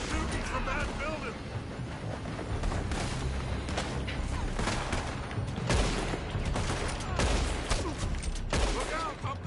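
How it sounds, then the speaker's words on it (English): Gunfire erupts from a building in the western video game Red Dead Redemption 2, a sustained fusillade of sharp shots and bursts cracking repeatedly over a busy battle din. "They're shooting from that building."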